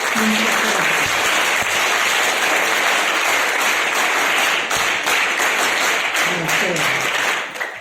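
An audience at a spiritual lecture claps loudly and continuously for several seconds, a dense, sustained wash of applause.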